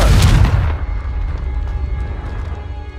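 A Confringo fire blast spell erupts in Hogwarts Legacy with a loud, booming explosion at the start, followed by a rumbling, crackling decay that lingers for a couple of seconds.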